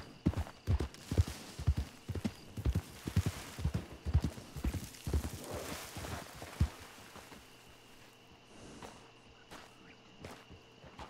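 Horse hooves clip-clop in a steady walking rhythm within a wilderness video game, loud and close for about seven seconds before fading quieter, with a soft ambient hum and faint background sounds.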